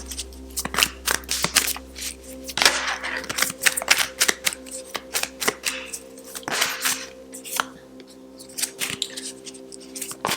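Tarot cards being shuffled by hand, a close run of crisp riffling flutters and soft slaps in uneven bursts, with brief pauses between handfuls.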